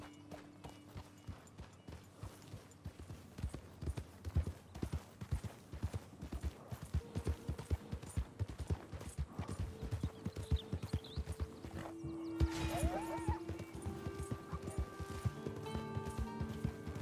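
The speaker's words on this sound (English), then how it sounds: "the horse isn't wanting to move" Horse hooves in Red Dead Redemption 2 clip-clop in a quick, steady gallop rhythm for about seventeen seconds, fairly quiet, with a brief whinny-like tone near the end and no talking.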